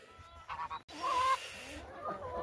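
Farm turkey giving honking, gobbling calls, a few short bursts and then a longer call, close by with light background noise.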